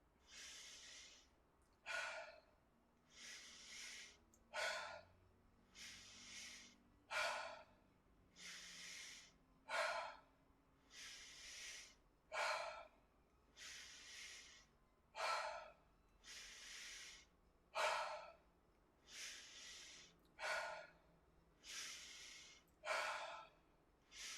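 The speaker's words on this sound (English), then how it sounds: "Keep breathing. Keep breathing." Deep rhythmic breathing exercise with about fifteen forceful breaths, each a loud close hissing inhale or exhale followed by a pause, repeating evenly throughout with no talk.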